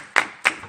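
Two distinct hand claps, close and crisp, evenly spaced under a second, from an audience at a French TV quiz broadcast.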